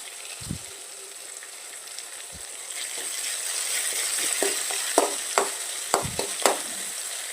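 Tomato sizzles and fries in a hot pan for chapati noodles, with a steady crackle throughout and a run of sharp spatula knocks and scrapes as it is stirred, close and fairly loud with no talk.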